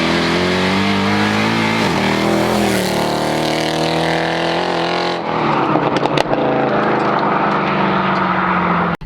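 The V8 of a Mercedes C63 AMG revs hard and close by on a wet road, a loud sustained roar with a rising and falling pitch, ending in sharp crackles as the throttle closes.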